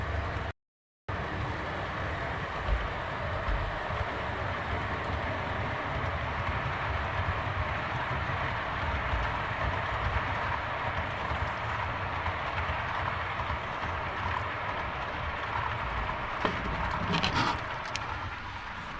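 A long freight train of scrap cars rolls past at close range, a steady rumble with rhythmic wheel clatter over the rails that continues throughout.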